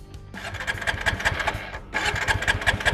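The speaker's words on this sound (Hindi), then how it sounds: "तो अभी जैसे देख पाएंगे गाड़ी स्टार्ट नहीं हो रही है" An Apache 200 motorcycle with its fuel run dry being cranked, the starter whirring and the engine turning over in two rough, sputtering attempts that never catch, close up.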